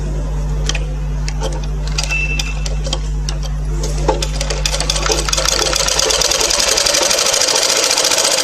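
A tailoring sewing machine runs steadily while stitching a fabric strip, a close mechanical hum with rapid ticking that turns into a faster, busier whirring near the end.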